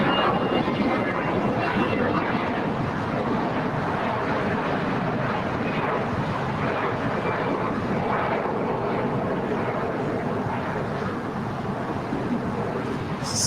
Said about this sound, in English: It's Air China 777 landing on the north side.